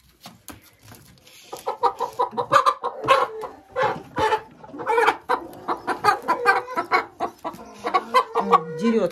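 Hens cluck inside a chicken coop where laying birds occupy the nests, with close, loud bursts of repeated clucking and squawks following one another irregularly throughout.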